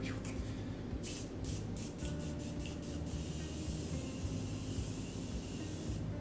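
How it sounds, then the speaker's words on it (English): A rapid series of short pumps of makeup setting spray, about seven quick hissing bursts, followed by a longer soft misting hiss, all close up against a low background hum. "I need to put some setting spray on this face."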